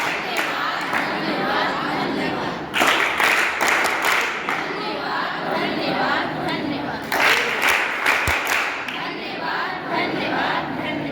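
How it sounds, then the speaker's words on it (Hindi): Audience at a program marking Atal Bihari Vajpayee's 100th birth anniversary breaks into applause and crowd noise, with bursts of clapping swelling and easing, mixed with voices and cheering throughout. "ताली"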